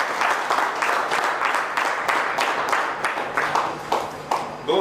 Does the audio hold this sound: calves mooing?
no